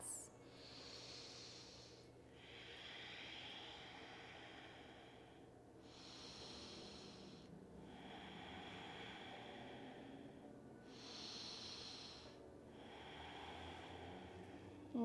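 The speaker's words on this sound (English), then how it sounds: "Take 3 more breaths." Slow, deep breaths during a guided meditation, with long drawn inhales and exhales repeating about every five seconds, soft and close with a hissing, airy texture and no talking.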